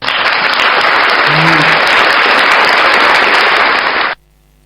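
Dense, steady audience applause at a Philippine political talk gathering, loud and sustained for about four seconds before cutting off abruptly into near silence.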